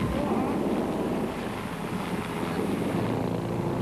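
Helicopter flying near live high-voltage power lines and steel lattice towers in South Africa, a steady broadband rotor and engine roar with wind buffeting, loud and continuous throughout.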